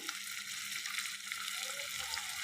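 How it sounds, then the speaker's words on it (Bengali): Fried onions sizzling loudly in a frying pan after a splash of water is added, a steady dense hiss that runs the whole time with no talking. "ফ্রাই প্যানে পেঁয়াজটা ভাজা হয়ে গিয়েছে আমি যেমন চাচ্ছিলাম ঠিক সেরকম দিয়ে দিলাম সামান্য পরিমাণের পানি"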